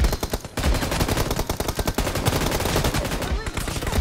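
Rapid bursts of automatic gunfire crack loudly and almost continuously in a battle royale video game, with a brief pause near the start, and a voice speaks underneath.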